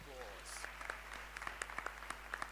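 An audience applauds at a school-related event, with scattered claps rising in the background while a voice speaks over them.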